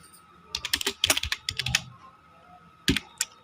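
Computer keyboard typing while entering code, heard as quick bursts of close, crisp keystrokes with short pauses between runs, no talking.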